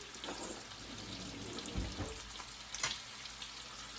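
Smoked sausages browning in a frying pan give off a steady, moderate sizzle, with a couple of brief clatters from the pan or utensil along the way and no voices.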